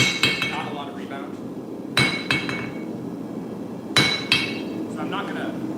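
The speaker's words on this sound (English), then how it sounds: "And when I hit the steel, it kind of absorbs all the shock." Steel struck with a hammer on a cheap cast iron anvil, with sharp metallic clinks in spaced clusters of two or three blows, each followed by a short ringing decay, close and fairly loud.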